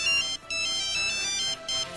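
A cell phone ringtone plays loud and close, a bright repeating electronic melody broken by brief gaps between phrases.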